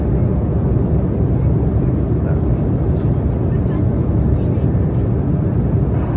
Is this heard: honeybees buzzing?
no